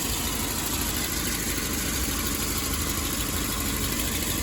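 A Volvo 940 engine idling after a radiator install, a steady, loud, close mechanical hum and rumble with a faint rhythmic ticking, unchanging throughout and without talk.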